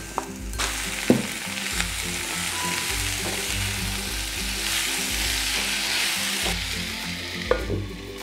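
Marinated ivy gourd pieces frying in a pan with oil and curry leaves, a constant close sizzle with stirring scrapes and a couple of sharp utensil taps against the pan.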